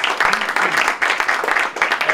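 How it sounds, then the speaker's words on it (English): Audience at a policy panel on REDD+ and zero deforestation gives the panelists a round of applause, a dense, even patter of clapping from many hands filling the short moment, with a voice mixed in underneath. "Yes, applause for our panelists."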